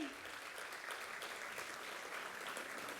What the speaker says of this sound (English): Let's give them a big round of applause to our Lynwood High School cheer team